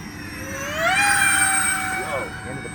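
RC model Airbus airliner with flaps set for takeoff, its jet-like whine climbing steeply in pitch and holding a loud, steady tone as it accelerates outdoors in a light breeze, then easing slightly near the end.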